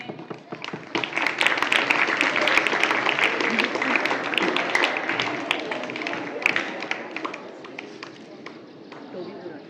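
An audience claps at a school Sindhi Culture Day celebration, a dense, sustained patter of many hands filling the room at moderate loudness, with voices mixed in.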